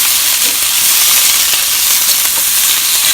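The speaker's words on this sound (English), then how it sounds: "we're going to go ahead and saute our apples and onions up" Apples and onions sauté in a pan along with pork seasoning left from a pork chop, giving a loud, steady, dense sizzle that runs without a break and has no talking over it.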